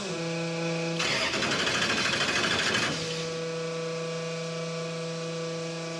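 A 1967 Dodge Dart race car engine cranks for about two seconds with a rapid rhythmic churning that stops without catching, leaving a steady background hum.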